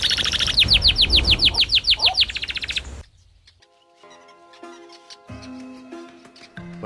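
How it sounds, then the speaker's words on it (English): Rapid rhythmic chirping of weaver birds fills the first three seconds, loud and close in a wild setting, followed by quieter, sparser calls with a low steady tone beneath. "Hunting weaver birds 12 feet above her."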